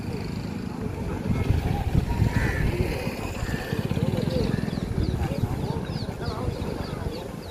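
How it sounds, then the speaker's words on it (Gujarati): A boat engine on a river drones steadily with a low rhythmic throb, outdoors by the water, while a few birds call faintly in the background. "એક બોટ સામેની સાઈડ ઉપરથી આવી ગઈ છે"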